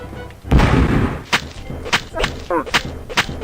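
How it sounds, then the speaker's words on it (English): Gunfire in the first-person fantasy game Shadowcaster: a heavy burst near the start, then a string of sharp, separate thuds and shots at uneven intervals, loud and close, with no talk. "Someone is shooting."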